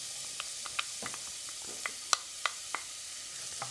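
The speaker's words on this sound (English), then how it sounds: "the first thing I'm going to do is dump my onions in and get them browning up." Onions browning in coconut oil inside a heavy-bodied 3-quart pot give a soft, steady sizzle with scattered sharp crackles and pops, quiet and close, no voices.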